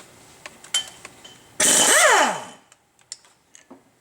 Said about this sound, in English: we're going to undo the 6 19mm bolts that hold the flywheel to the back of the